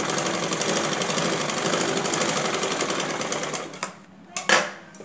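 A sewing machine stitches a blouse with a steady, fast, loud mechanical whirring and chatter for about four seconds, then stops and gives way to a few brief handling knocks and rustles.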